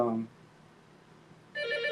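An old landline telephone rings in short bursts at the start and again at the end, with a quiet gap between the rings.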